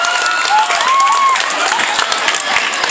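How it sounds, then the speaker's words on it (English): A school assembly of students bursts into loud, dense applause mixed with cheers and whoops, close and energetic for a few seconds. "Give yourself a round of applause."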